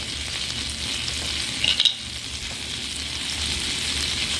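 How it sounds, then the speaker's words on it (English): Steady crackling sizzle of steak frying in butter in a hot pan, close and continuous, with a brief clatter partway through. "Now that the butter's sizzling"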